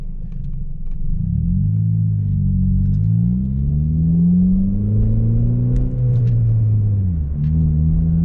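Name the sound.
manual car engine idling and revving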